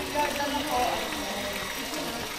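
Water shower spraying at a farm, a steady broadband hiss of falling spray that holds evenly throughout, with faint voices in the background.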